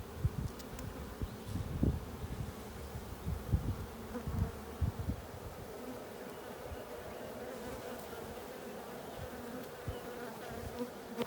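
Honeybees buzz steadily on a frame pulled from a hive, a dense close hum with soft thumps and gusts of breath blown over them.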